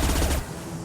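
A rapid, loud burst of automatic gunfire from a weapon in Mass Effect 2, clattering for under half a second before cutting off.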